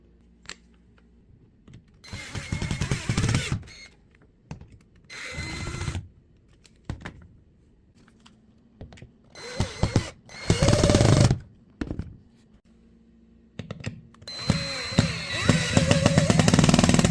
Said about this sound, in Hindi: बस ड्रिल मशीन या स्क्रू ड्राइवर की हेल्प से टाइट कर दीजिए